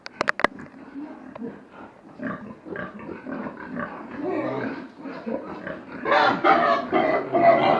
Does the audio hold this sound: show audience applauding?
no